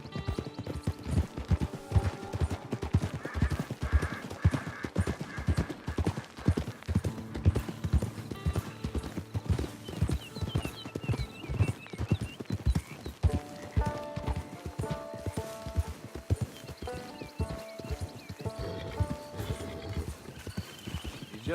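Horse hooves clip-clop in Red Dead Redemption 2, a steady rhythmic trot that runs throughout under game music and an occasional snort or whinny.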